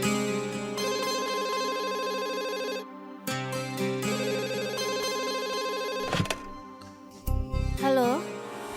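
A telephone rings out while a home number is dialed, its tonal electronic ring repeating in steady bursts over music, with a brief clatter and rising tones near the end.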